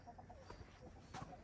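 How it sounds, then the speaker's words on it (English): Chickens clucking in a backyard woodland setting, a few short soft calls scattered over steady low background noise and faint rustling, with no talk. "Stressing the chickens out."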